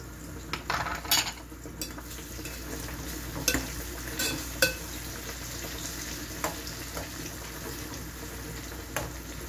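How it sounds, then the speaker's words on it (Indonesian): Spaghetti, chicken and shallots cooking together in a pan make a steady low sizzle and bubble throughout, broken by occasional clinks and scrapes of utensils against the pan, heard up close at moderate volume. "kita biarin dulu spaghettinya mateng, ayamnya mateng, bawang merahnya mateng"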